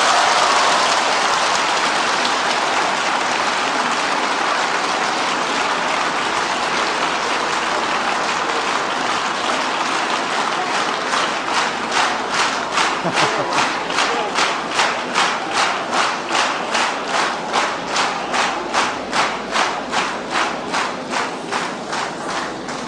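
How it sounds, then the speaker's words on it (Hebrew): An audience at the Israeli Eurovision selection breaks into sustained applause and cheering, a dense crowd roar that settles into loud rhythmic clapping in unison for the second half. "גבירותיי ורבותיי, אפשר למחוא כפיים."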